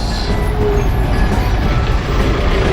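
A local bus rattles over bumpy cobblestone streets through Puerto Vallarta, Mexico, with a steady, close engine rumble and dense road noise throughout, with no clear voices.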